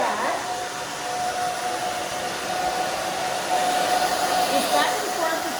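A hair dryer blows over a freshly cut pixie haircut, a steady loud rushing hiss with a faint whine that stays constant throughout the clip.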